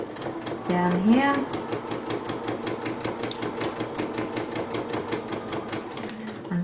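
A Janome MC15000 embroidery sewing machine stitches a mug rug in a steady, fast mechanical whir with rapid needle ticking, running continuously at close range while a voice speaks briefly over it.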